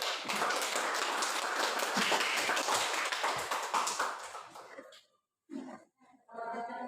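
A university classroom of students claps hands in a loud, busy burst that lasts about five seconds and then stops abruptly, followed by brief voices.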